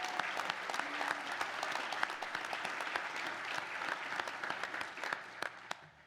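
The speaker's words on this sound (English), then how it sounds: "A round of applause to Miss Trish," Sustained applause from a crowd at a university ROTC commissioning ceremony, dense overlapping claps of steady intensity with a few sharper individual claps standing out, fading near the end.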